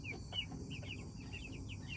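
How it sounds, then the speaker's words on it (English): Pullets and cockerels about two and a half months old, settling in at dusk on a farm, make a string of short, close chirping calls and soft clucks that repeat irregularly over a low background hum. "These are my pullets and cockerels from my August 2nd hatch out."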